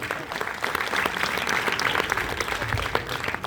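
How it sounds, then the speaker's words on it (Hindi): An audience at a retirement poetry recital breaks into loud applause, continuous clapping held steady for several seconds with a few louder claps near the end. "तालियां।"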